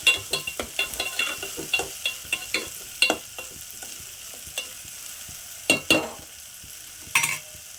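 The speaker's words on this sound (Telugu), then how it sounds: "రొయ్యలు ఫ్రై అయిన తర్వాత ఒకసారి మిక్స్ చేసుకున్నాం." Dried prawns, onions and chillies for a tomato curry are stir-fried in a pan: a quiet sizzle broken by repeated sharp clicks and knocks of a spatula against the pan, irregular and close.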